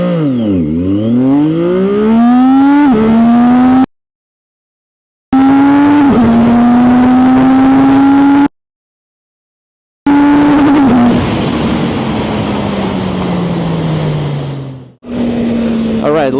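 Sport motorcycle, a 500SR or 675SR-R, launching and accelerating hard in a city: a loud close engine revs up sharply and climbs through several gear shifts, broken by two abrupt silences, with pitch sliding down at the end.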